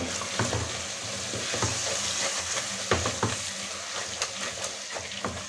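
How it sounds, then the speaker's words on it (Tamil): Four tomatoes sautéing in a hot pan with a continuous crackling sizzle, punctuated by sharp spatula scrapes and knocks against the pan as they are stirred up close. "4 தக்காளி போட்டு நல்லா வதக்கிடலாம்"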